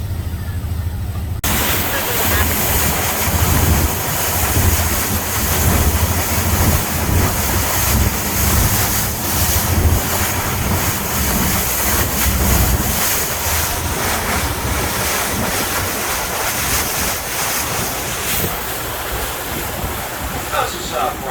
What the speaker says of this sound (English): This is Sable Falls.